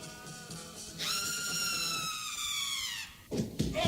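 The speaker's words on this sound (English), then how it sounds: "Sirens followed." Siren wails within a played fuzzy psychedelic music track, a rising then slowly falling electronic tone sweeping over a dense, moderately loud musical background before a burst of noise at the end.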